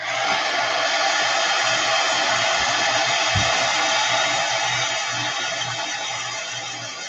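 A hair dryer blows steadily and loudly while drying a napkin art journal page, a continuous whooshing roar running throughout with a faint thump midway.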